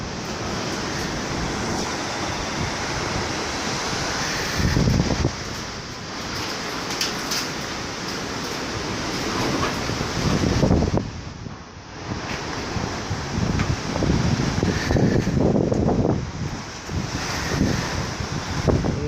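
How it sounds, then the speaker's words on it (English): Strong gusting wind outdoors in Auckland, roaring steadily into the microphone with surging gusts, likely from trees being shaken hard. No one speaks. "Wind is real strong."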